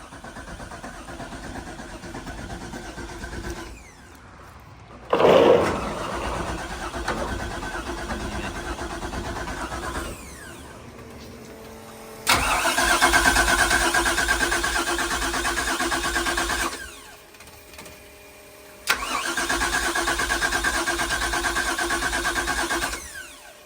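Big block engine in a Fountain powerboat, run cold until the thermostat opens: it fires up with a sharp burst, settles into a rumbling idle, then rises into loud revving stretches twice, broken by quieter idling between.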